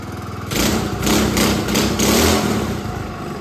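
A Predator engine on a restored vintage Manco Dingo minibike, solidly mounted with its chain unhooked, fires up on the first pull and runs loud and close with an uneven, pulsing rev.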